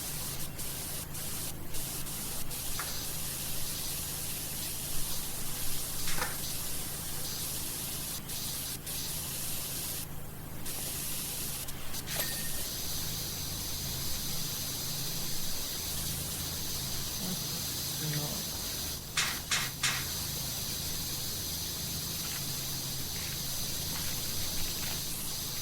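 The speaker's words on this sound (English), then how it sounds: "I'm spraying Theon, but they're going to be really awkward about it." Steady broadband hiss of a pressure washer spraying continuously in Powerwash Simulator, cleaning a ship figurehead, with a few brief tool clicks and no talk.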